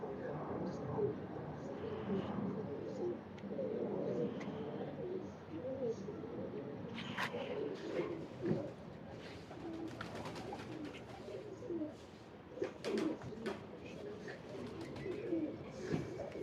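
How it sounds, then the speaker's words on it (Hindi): Teddy King breeder pigeons coo softly in a loft, with steady low murmuring throughout, occasional wing flutters and clicks, and someone talking over the birds. "बड़ा बेहतरीन कबूतर"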